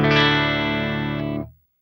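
A sustained distorted electric guitar chord, played through an HX Stomp XL modeler with reverb set to zero, rings out dry and steady for over a second, then is cut off abruptly with no reverb tail.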